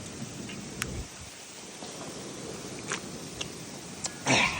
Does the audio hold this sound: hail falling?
yes